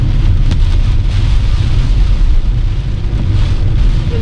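Dense, steady roar of heavy monsoon rain at Tamhini Ghat near Pune, with a deep rumbling undertone, loud and continuous without pauses.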